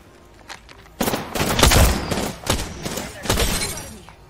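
Bursts of gunfire in the battle royale shooter Apex Legends, sharp rapid shots and cracks clustering into loud, close volleys with brief gaps, after a quieter lead-in.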